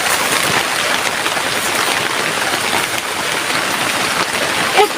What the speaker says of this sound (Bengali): দেখুন বন্ধুরা, কিরকম বৃষ্টি এসে গেছে।